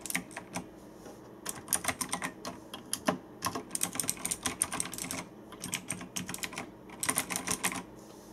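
Keys clatter on a Razer BlackWidow mechanical keyboard with Chroma responsive backlighting, coming in irregular bursts of quick clicks with short pauses between them, close and clear with no voices.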